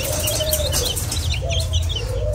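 Serama chickens in a small home setting, soft clucks and chirpy calls over a steady low background hum, with a couple of drawn-out tonal calls and light fluttery sounds.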